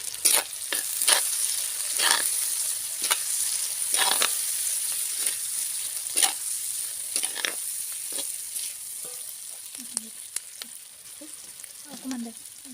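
Duck pieces dry-frying in a pan of hot oil, with a steady close sizzle and bubbling crackle, broken by scraping stirs and clinks of a utensil against the pan.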